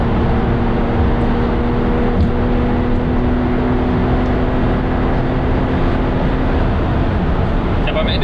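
A Porsche 992 Targa 4S accelerates hard in sixth gear in manual mode, giving a continuous loud engine drone with road roar that holds steady throughout.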